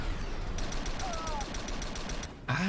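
A gasoline gun fires in Star Trek Elite Force 2 as a fast, evenly spaced burst of sharp shots over a steady hum, ending in a brighter whoosh at the close.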